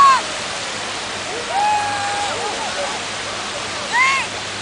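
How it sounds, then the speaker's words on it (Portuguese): Water rushes steadily outdoors in a broad, continuous wash, while voices and a few high chirps or squeals rise over it now and then. "Olha a água."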